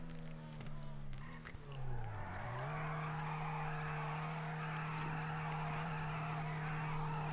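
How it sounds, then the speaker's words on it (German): A car in a video game does a circling burnout, its tires squealing steadily over a droning engine note that dips and then holds, with a voice talking over it. "Und dann mach mal im Kreis zum Burnout."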